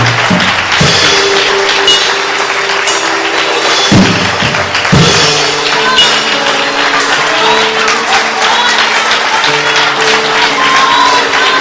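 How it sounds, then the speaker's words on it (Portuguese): Congregation at a church leaders' school applauding loudly and steadily, a dense continuous wash of clapping with thuds and low sustained tones from instruments or voices underneath throughout. "Aplauda Jesus mais forte."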